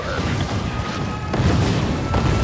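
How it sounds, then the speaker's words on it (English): Huge explosions rumble through a city assault in the video game Spore, a dense continuous roar of booming blasts with crashing impacts, loud and sustained with no talking. "Huge explosions."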